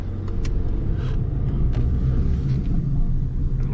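A car pulls away again after slowing on a downhill road on a drive from Route de Craon toward Ampoigné, with a steady low engine and road rumble throughout, heard from inside the cabin.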